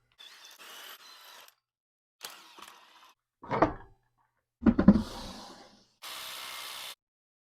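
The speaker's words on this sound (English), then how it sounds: "And I will torque those to, I believe, 98 foot-pounds." A torque wrench tightens brake bolts on a second-generation Nissan Xterra to about 98 foot-pounds, heard as a few separate short ratcheting bursts and mechanical clicks with silent gaps between them, close by.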